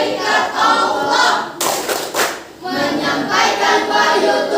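A middle school class stands and performs a rhythmic clapping chant, hands striking together in loud, patterned bursts under group chanting voices, with a brief pause partway through before the clapping resumes.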